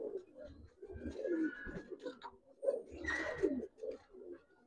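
Giribaz pigeons cooing close by in repeated soft, throaty bursts, with a few faint chirps and light background murmur.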